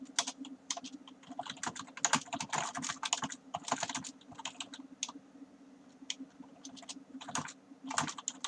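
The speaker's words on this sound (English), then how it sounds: "I'm just typing at the drama demon" Quick, uneven bursts of clicky keystrokes on a computer keyboard, close and fairly quiet, with a steady low hum running underneath and no voices.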